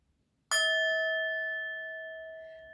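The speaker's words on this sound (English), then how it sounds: "I didn't like the sound of that bell, so we're going to give it another hit" A single struck bell rings out alone, one sharp strike followed by a clear, steady tone with several pure overtones that decays slowly over a couple of seconds.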